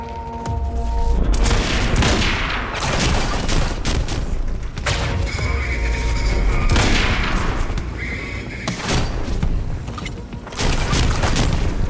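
Heavy gunfire and grenade-launcher explosions from the video game Quantum Break, loud dense bursts of shots and booms with brief lulls between volleys.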